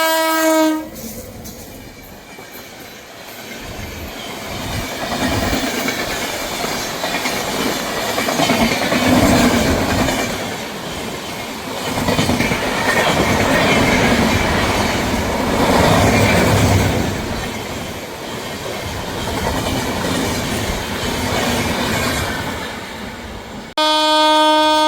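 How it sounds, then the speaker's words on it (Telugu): Express train 12521 to Ernakulam Junction passes at speed on the Vijayawada–Chennai line, a loud, continuous roar of wheels and rushing carriages, with a horn sounding at the start and again at the end. "ఆ train number 12521 Ernakulam junction అత్తిసాగర్ express. చూద్దాం స్పీడ్తో ట్రావెల్ అవుతుంది."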